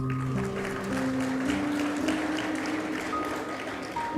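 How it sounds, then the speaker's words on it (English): An audience at a college convocation in Ranchi applauds graduates, steady continuous clapping throughout with faint background music tones underneath. "Please clap for your fellow friends."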